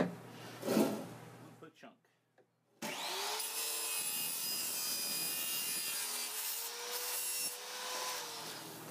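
A chunk being cut off a PVC pipe: a brief scrape, a short pause, then a long, continuous rasping saw stroke, close and steady, with a voice briefly at the start.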